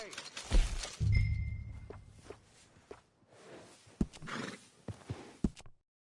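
In Red Dead Redemption 2, a horse whinnies sharply, then hooves clop and thud in scattered steps across a quiet scene, with faint voices mixed in.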